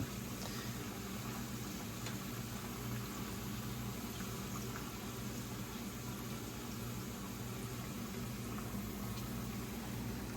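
Potato fries cooking in hot oil in a pot, a dense, even bubbling hiss that runs steadily and unbroken throughout, close and moderately loud with no talk over it.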